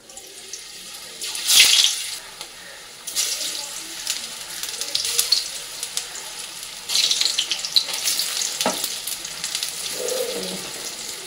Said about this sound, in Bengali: তেলটা গরম হয়ে গেছে, তেলের মধ্যে এবার পনিরগুলোকে ভেজে নেব।